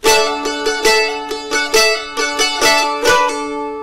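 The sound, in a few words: stringed instrument riff with pull-off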